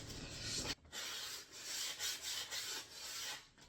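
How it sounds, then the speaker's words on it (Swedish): Sandpaper rubbing over a wooden IKEA picture ledge, a steady run of close, quiet scratchy strokes with one brief pause, no voices. "Sandpapper först i alla fall."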